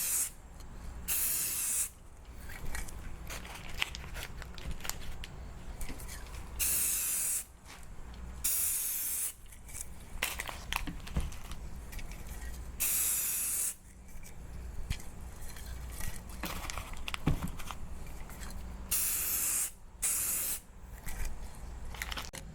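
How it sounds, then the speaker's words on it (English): Bursts of hissing spray from a paint gun applying primer to a stainless steel barrel, repeated in several passes with brief pauses between them, close and steady. "Here goes our final coat of primer."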